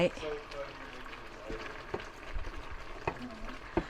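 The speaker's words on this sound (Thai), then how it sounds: "เดือดปุดๆเนื้อหน่อไม้" Thai green curry with bamboo shoots simmering at a boil: soft bubbling and popping with occasional louder plops and clinks, fairly quiet and close, while someone speaks over it.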